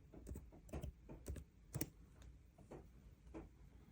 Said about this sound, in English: I'm going to go ahead and type here in the search candle